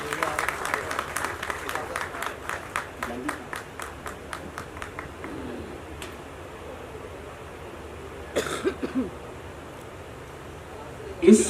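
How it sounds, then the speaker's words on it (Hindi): Audience applause welcoming a guest onto the stage at a music video launch event, a burst of clapping at the start that fades into crowd murmur, with a few louder bumps near the end. "पुरजोर तालियों से इस्तकबाल करें दोस्तों।"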